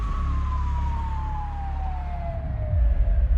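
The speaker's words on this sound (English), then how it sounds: "A few minutes later, Lauren was loaded into the back of an ambulance, headed for the Cleveland clinic." An ambulance siren wails in a long, steadily falling tone, close and clear over a low engine rumble that swells toward the end as the vehicle passes.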